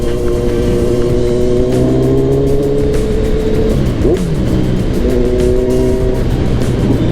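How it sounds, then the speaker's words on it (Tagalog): A Kawasaki Z1000 motorcycle revs and accelerates hard on a town street. The engine note climbs through several gear pulls with a brief dip midway, loud and close throughout, with no talking. "Tamang harurot muna tayo ng konti"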